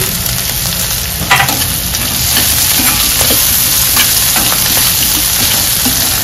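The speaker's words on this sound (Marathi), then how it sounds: "आता शेंगदाणे टाकणार आहे." Peanuts fry in a pan with curry leaves and peas, a loud, dense, continuous sizzle with scattered stirring clatters, close up and without talk.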